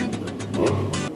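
A car engine growls and revs briefly, a low rough rumble with a few pulsing surges.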